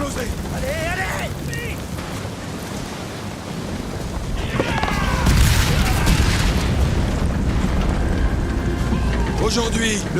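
A deep, rumbling boat explosion in the video game Ghost of Tsushima swells midway through, followed by crackling and rushing noise, with French voices heard before and after the blast.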